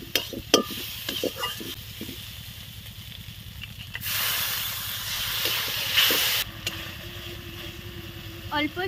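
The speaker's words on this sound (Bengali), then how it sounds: "এবার ভালো করে নাড়াচাড়া করে নেব।" A spoon stirs turmeric and Kashmiri chili powder in a pan for a prawn malai curry, with scraping strokes over a steady sizzle and a louder burst of hiss midway, while a voice talks briefly.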